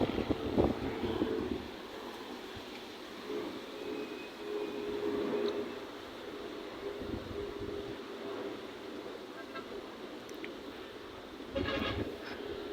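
An airplane approaching overhead on a nature trip outdoors: a steady, broad engine drone with wind noise that builds slightly and holds throughout, with faint bleat-like calls in the background.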